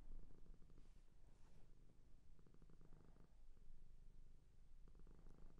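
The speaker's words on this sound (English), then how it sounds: "If you hear grumbling in the background, that's actually my cat purring, sorry." A domestic cat purrs close by indoors, a soft, steady rumbling in rhythmic pulses that rise and fall with each breath, quiet and alone.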